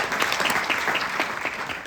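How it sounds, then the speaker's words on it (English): An audience at a political event applauds educators, a dense burst of clapping that carries through the whole short stretch. "Big round of applause to all of our educators."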